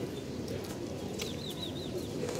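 Pigeons in a backyard loft, with chickens kept nearby, give soft cooing over a dense low murmur, while a short run of thin, rising chirps stands out in the middle.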